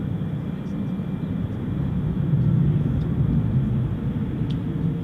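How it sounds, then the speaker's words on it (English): A FedEx MD-11 cargo jet takes off at night at DFW Airport, heard as a steady low roar that swells slightly and then holds at a moderate distance, with no talk. "Here we've got an MD-11 which is taking off."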